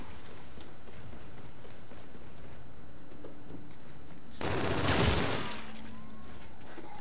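Gunfire in the Spaceland video game: one loud, sharp burst of shots lands in the middle of an otherwise quiet, noisy background, with no voices.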